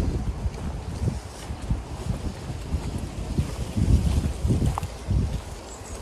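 Wind blowing outdoors in a garden, a steady rumbling buffet against the microphone with gusts swelling and easing throughout, no voices.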